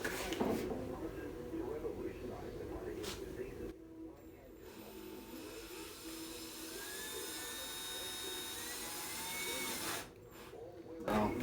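A steady, continuous whine of a power drill running a hole saw for several seconds, with a brief pause near the end and low background noise.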